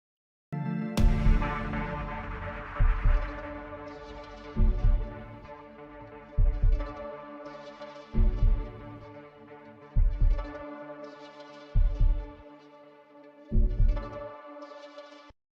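A heartbeat-like bass pattern built in FL Studio plays as eight evenly spaced deep thumps that pulse roughly every two seconds over a sustained harmonic tone, loud and steady, with no talking.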